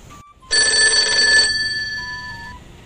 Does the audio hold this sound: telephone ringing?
yes